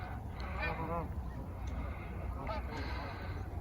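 A waterbird caught in ice gives a few honking calls, faint and somewhat distant, over a steady low outdoor rumble.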